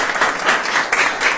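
At an award ceremony honouring a youth champion, an audience bursts into loud applause, a dense crowd of clapping hands close by that swells in brief pulses over a short stretch.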